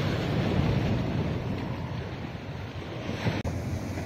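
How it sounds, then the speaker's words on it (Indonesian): Morning ocean waves rolling onto the shore at Caringin, Banten, a steady loud wash of surf mixed with wind buffeting the microphone, with no voices. "Disambut ombak pagi,"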